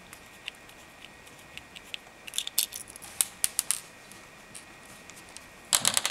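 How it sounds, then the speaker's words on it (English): Small metallic ticks and scrapes from a screwdriver backing out the screw that holds the potentiometer inside an RC servo, close up over steady hiss, irregular at first and then bunching into a quick cluster near the end. "Okay, I'm going to unscrew this."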